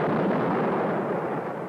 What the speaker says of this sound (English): Fire missiles, concentrated direction. See if we can cut through that wall.